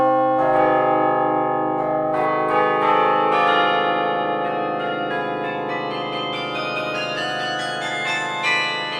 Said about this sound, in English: Let's listen to that opening sequence on bells rather than on piano.